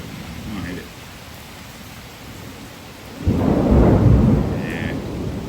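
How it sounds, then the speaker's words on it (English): A summer thunderstorm in Manorville: rain falls steadily, then a deep roll of distant thunder rises halfway through and rumbles on at full strength to the end, with a person speaking briefly near the start. "Thunder seems a little far away"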